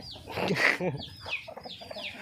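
A prized bantam fighting cock at a Thai farm gives several close, clear clucks and squawks in quick succession, with a brief voice-like sound among them.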